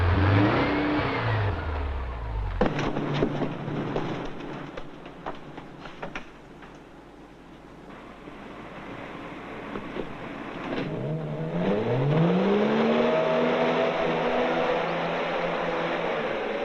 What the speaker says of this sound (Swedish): Jag ska bara köra undan bilen.